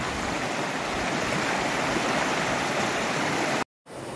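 The Bheri river rushes loudly and constantly as a rescue team heads toward a cow stranded midstream. The roar is close and broadband, then cuts out briefly near the end and resumes.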